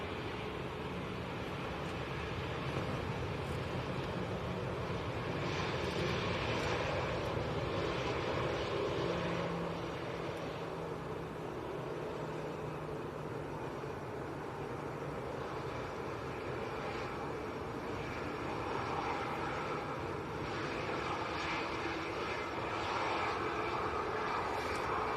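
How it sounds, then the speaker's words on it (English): An easyJet Airbus A320 in from Catania arrives at Manchester Airport with a steady, moderately distant engine roar that holds for the whole stretch and shows slight swells, no voices over it. "EasyJet just arrived. This is from Catania, Airbus A320."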